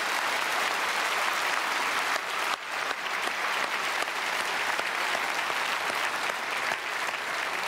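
A church congregation at a special early-morning service in Korea applauds in a dense, sustained burst of clapping from a large crowd, loud and even throughout with a brief dip partway through.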